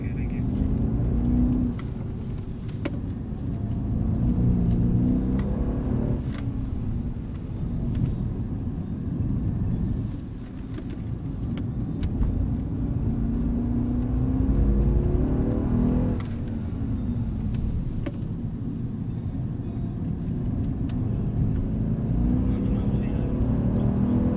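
A Mercedes C63 AMG drives on a track at Brooklands, with a steady low engine drone and road noise throughout, brief dips as it brakes hard with ABS, and people talking over it.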